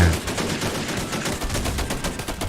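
Rapid autocannon fire in the war game BattleRush, a steady stream of fast, evenly spaced heavy shots at moderate loudness, continuing without pause and with no talk over it.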